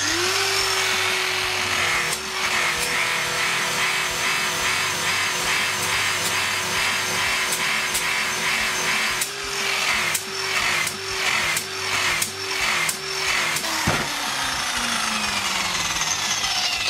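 A Line-Mate finishing machine brushes a metal surface with a steady, loud mechanical whir, broken near the end by a run of rhythmic scraping strokes before the motor winds down.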